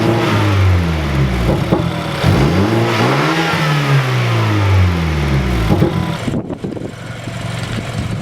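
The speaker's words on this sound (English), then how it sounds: "Now I'll give it some revs." A BMW F30 with an N26 engine and Injen aftermarket intake revs repeatedly nearby, the pitch rising and falling in several surges before settling back toward idle.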